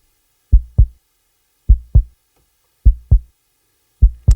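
Heartbeat sound effect in a hybrid trailer score: four loud, deep lub-dub double thumps at a slow, even pace, separated by silence.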